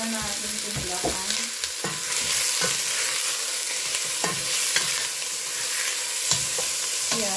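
Sliced beef browns in a hot pan with a loud, constant sizzle, broken by the scrape and clack of a utensil stirring now and then, and nobody speaking.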